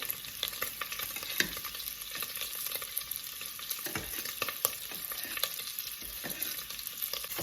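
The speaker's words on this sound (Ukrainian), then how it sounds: "Ось так будемо час від часу помішувати і витоплювати." Pork fat (lard) sizzling and crackling steadily in a pan as it renders, while a spoon stirs and scrapes now and then, close and continuous.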